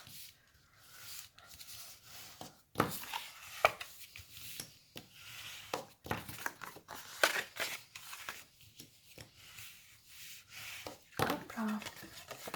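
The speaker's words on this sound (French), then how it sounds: "On va marquer les plis." A tool scores fold lines into paper for a slide box, giving sharp dry scraping strokes and taps in short bursts, close up, with a voice talking between them.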